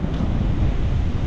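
Strong sea waves surging near the shore by a beach, a dense, steady roar of surf mixed with heavy wind buffeting the microphone throughout.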